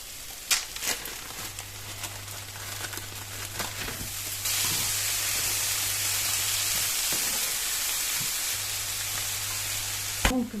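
Bell peppers sizzle and fry in a pan with cabbage, potatoes and water nearby, giving a steady broadband hiss that grows louder midway and lasts throughout. A few light clinks and stirs sound over it.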